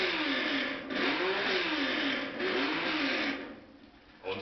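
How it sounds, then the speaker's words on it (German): Naturally aspirated Porsche Carrera race car, a thin, buzzing engine note rising and falling through several revving sweeps, fairly faint and heard alone before fading toward the end. "Ein Porsche Carrera mit Saugmotor."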